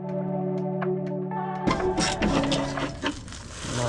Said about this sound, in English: I've grabbed a 30mm socket and we're just going to remove the hanger brackets